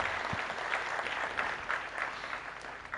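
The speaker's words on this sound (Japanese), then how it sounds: "今一度大きな拍手をお送りください。" Steady applause from an audience, moderate and even throughout, with no voices standing out.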